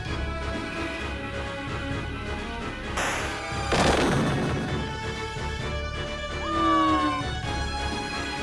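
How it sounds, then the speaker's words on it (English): A Bomb monster self-destructs in Final Fantasy Tactics, a sudden crashing blast followed by a second heavier boom over ongoing game music and effects, loud and close. "Bomb is... uh-oh. Yep, there it is. Self-destruct."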